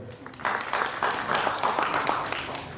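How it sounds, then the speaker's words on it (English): Scattered audience clapping from students in a college lecture hall, starting after a brief pause and continuing as a steady, moderately loud patter. "Clap for yourself, brother."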